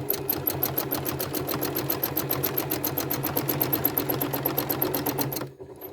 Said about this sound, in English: now we're going to stitch down what would be a seam line